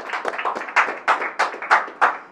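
A congregation clapping hands in worship gives close, crisp, fairly regular claps, roughly two to three per second, with no voices over them.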